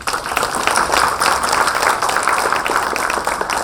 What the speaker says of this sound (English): definitely big round of applause for everyone